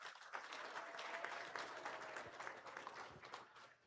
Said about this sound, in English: give these kids a big, big round of applause.